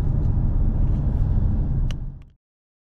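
A Ford Mustang GT drives on a North Georgia mountain road, its engine giving a steady, loud low rumble that holds for about two seconds and then fades away quickly.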